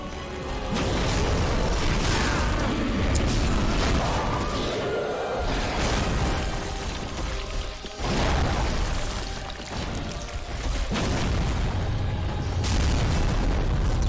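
Loud, heavy explosions and rumbling booms from a Dark Souls 3 boss fight in the video game, filling the whole stretch in sustained waves with brief dips, no talking over them.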